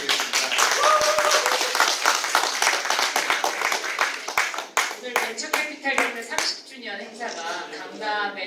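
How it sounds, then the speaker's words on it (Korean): Dinner-event audience at a blockchain festival applauding a government minister, a crowd of hands clapping briskly and thinning toward the end, with some voices and individual sharp claps mixed in. "여러분 정말 우리 장관님께 큰 박수 한번 부탁드리겠습니다"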